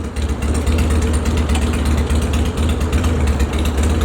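A ratchet tie-down strap on a Harley-Davidson motorcycle is loosened with rapid, rhythmic mechanical clicking, loud and close, running steadily for several seconds with no talking.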